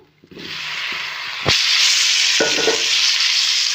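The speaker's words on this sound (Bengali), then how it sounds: "এতে ভেজে রাখা আলু আর কুমড়োটা দিয়ে একটু নেড়ে চেড়ে নেব" Potato and pumpkin sizzle loudly as they fry in a pan for a Bengali prawn curry, with a sharp burst of hiss as the pieces drop into the hot oil and scraping strokes as they are stirred.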